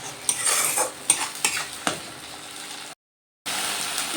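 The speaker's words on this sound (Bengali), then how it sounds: "এবার আমি ভালো করে মশলাটা কষিয়ে নেব" Onion-tomato masala paste sautéed in a pan for a green jackfruit curry: steady sizzling with brisk, repeated stirring and scraping up close, broken by a brief silent gap before the frying resumes.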